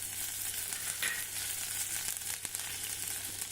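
Mustard seeds, cumin and green chilli pieces sizzle in hot ghee for a tempering, a steady close crackling hiss with faint pops, continuous and without voices.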